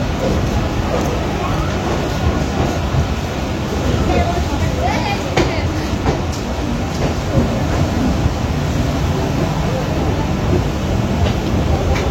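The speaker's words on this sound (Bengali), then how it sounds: "এখন আমাদের ট্রেন বনগাঁ রানাঘাট লোকাল এখন ছেড়ে দিল তার সোর্স বনগাঁ থেকে।" A Bangaon–Ranaghat local train departs Bangaon, rolling along with a loud, continuous rumble and rattle of carriages, voices murmuring faintly beneath the noise.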